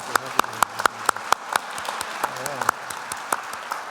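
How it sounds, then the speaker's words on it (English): A congregation applauds a person who has just become Catholic, giving a round of applause at a church service; moderate scattered clapping with sharp individual claps standing out, with some voices underneath. "we'll give you a round of applause"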